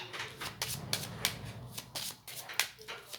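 Tarot cards are shuffled by hand in quick riffling bursts with soft papery slaps, close and quiet, about eight strokes in a few seconds.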